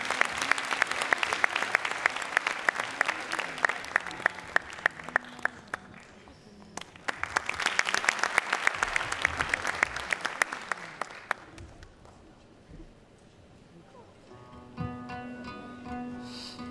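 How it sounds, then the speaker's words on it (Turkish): A Turkish classical music concert audience applauds in two sustained, dense bursts of clapping, with a quieter stretch before a few instrument notes and some murmuring near the end. "Alkışlarınızla."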